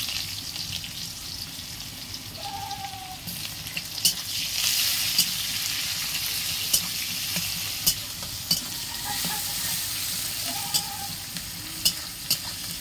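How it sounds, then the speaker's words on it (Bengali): Chopped onion frying until reddish in a pan with salt and chui pepper, a steady close sizzle and hiss punctuated by light periodic taps of a stirring spoon, with no voices. "পেঁয়াজটা লাল লাল করে ভেজে নেবো।"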